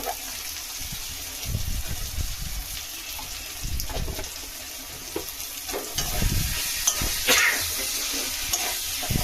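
Ginger and garlic masala paste sautéed in oil for ghugni produces a steady, close sizzle, broken by repeated scraping stirs of a spoon against the pan.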